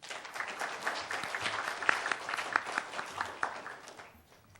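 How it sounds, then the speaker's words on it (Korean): Audience applause at a 2015 forum award ceremony: a dense, steady wash of many hands clapping in a hall, with a few sharper peaks, tapering off toward the end. "큰 박수 부탁드립니다"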